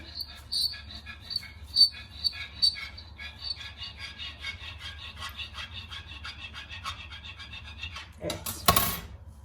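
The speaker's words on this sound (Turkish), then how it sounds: "Ve bu telle panispanyamı keseceğim." A thin wire drawn through a soft sponge cake, giving a faint, steady scraping rub that repeats in short strokes, then a louder rustle near the end.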